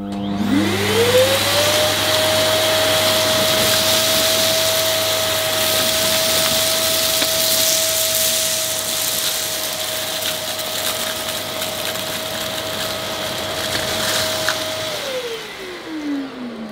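A Thomas Aqua+ Pet & Family vacuum cleaner with a turbo nozzle on carpet spins up to a loud, steady motor whine, holds it for most of the stretch, then winds down at the end.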